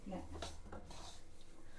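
A spoon stirs dry fruits and nuts together in a bowl for flaxseed laddu, giving soft, quiet scrapes and light clinks in quick succession.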